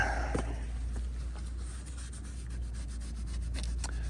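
Wet sanding of a deeply scratched car headlight lens with 1000 grit sandpaper, heard as a steady close rubbing scrape with short repeated strokes and no talking.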